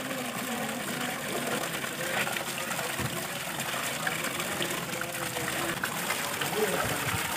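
Water from a drinking-water spring tap on the road to Almora pours in a steady, rushing splash close by, with no break in the flow.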